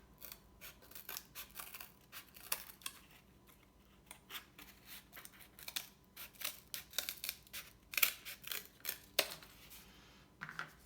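Scissors snipping through cardboard while shaping pieces for a handmade picture frame, a run of quiet, irregular crisp cuts and rustles close by, with short pauses between strokes and no talking.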